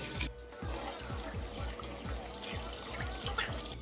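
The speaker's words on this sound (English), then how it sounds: "Turn on the tap and" Water runs steadily from a sink tap for hand washing, a continuous splashing rush with a rhythmic low pattering as the stream hits the basin, close and fairly loud throughout.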